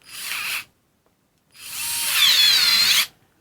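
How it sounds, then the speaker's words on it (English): A WORX WX242 4V lithium-ion electric screwdriver runs in two bursts, a short one and then a longer whine, with its mechanical clutch clicking and buzzing loudly and up close, with no talking. "That is a mechanical clutch."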